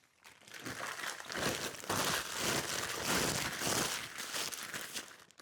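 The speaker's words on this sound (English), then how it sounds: "we're going to wrap them as we've been doing our sort of glasses" Packing paper crumpled and crinkled around wine bottles, a steady dense rustling that swells up after a quiet start and continues loudly, close and busy, with no talking.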